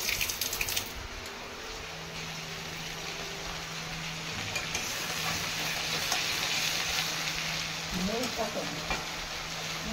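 Bele fish fry in hot oil in a pan, giving a steady, dense sizzle that runs the whole time, with a low hum underneath and a few soft clinks near the end.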